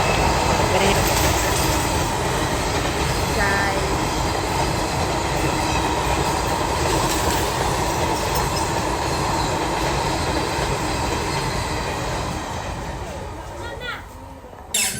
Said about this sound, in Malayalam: വീണ്ടും ട്രെയിൻ പോകുന്നത് തന്നെ കാണാൻ കഴിഞ്ഞു